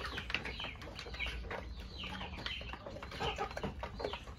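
A flock of young Peruvian chickens, well grown from day-old chicks, cluck and chirp nearby in a busy overlapping chorus, with occasional wing flaps and farmyard rustling.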